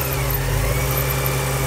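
An 1985 Porsche 944 engine runs smoothly with its intake vacuum leak plugged, a steady close mid-pitched idle hum with a firm low drone and no talking.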